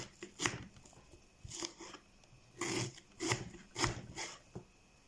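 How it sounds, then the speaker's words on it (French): A knife dices half a red onion on a cutting board, giving a series of soft, irregular chopping taps and scraping strokes, close up and fairly quiet, with no talking. "je vais commencer donc à découper l'oignon en tout petits morceaux"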